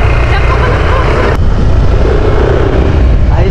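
A Yamaha Aerox 155 scooter runs after an oil change, its engine a dense, steady drone heard up close while riding, with wind noise and no break in the sound.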